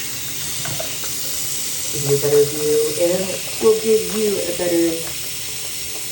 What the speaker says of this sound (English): once I rinse it off with the faucet here